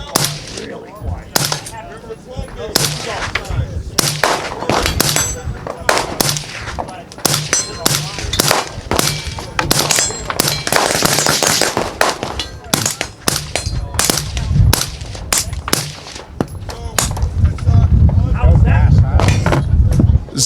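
Subsonic rifle fire on an outdoor shooting range, a string of sharp, fairly muted reports in quick irregular succession, with voices talking in between and over the shots.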